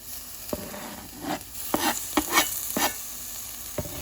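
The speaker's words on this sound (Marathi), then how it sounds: "पियाव भाजून म्हणटकीर हांव टोमॅटो काडटा." Onions and tomato fry in a pan for Goan spinach bhaji, with a soft steady sizzle under several scraping stirs of a spoon, close by and without talk.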